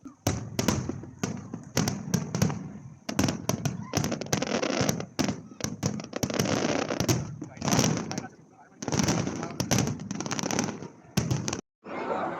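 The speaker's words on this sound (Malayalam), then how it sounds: "ഈ ഷേക്ക് സൈഡ് ഫെസ്റ്റിവലിൽ ഇങ്ങനെ അടിപൊളി ഒരു ഫയർ വർക്ക് കാണാൻ പറ്റിയത്" Festival fireworks crackle and burst in rapid irregular volleys, loud and close, with short quiet gaps between barrages and a crowd murmuring underneath.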